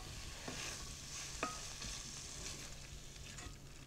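Onion and mushroom chutney with balsamic vinegar is stirred in a pan, a spoon scraping and clinking over a quiet, close sizzle, with one sharper knock midway.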